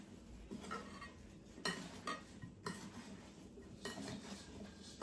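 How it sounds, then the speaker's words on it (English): A spoon stirs and tosses sliced apples with cinnamon and sugar in a bowl for an apple pie, giving soft scraping and clinking strokes against the bowl at a faint, close level, with no talking. "grab a spoon and then you're gonna mix these up"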